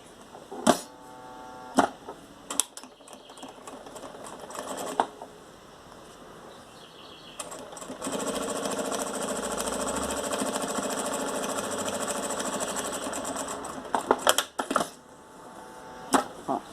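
A sewing machine stitches a seam in a steady whirring run of several seconds, framed by clicks and knocks of handling before and after.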